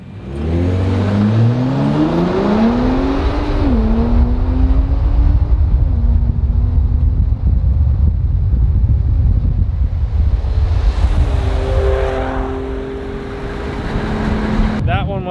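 Two Ford Raptor pickups, a Stage 2 Goosetuned Gen 2 against a Gen 3, launch in a drag race, engines rising in pitch as they accelerate hard and shift, loud and close with heavy wind noise.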